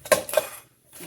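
A hiker's backpacking cook kit is handled: two quick metallic clinks of pots and utensils knocking together, close and crisp, then a brief quiet rattle.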